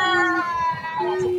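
A cat gives a loud, close, drawn-out meow that dips and then rises again in a second tonal stretch, with no voices over it.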